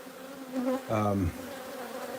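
Bees from a wild hive being moved into a new home buzz loudly and close for about half a second, with steady, rising insect drone over a low background hum.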